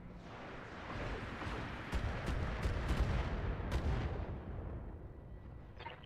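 Lasers and short-range missiles firing in a BattleTech video game, heard as a dense, rumbling barrage of blasts and impacts that swells and then fades out, with sharp cracks scattered through it.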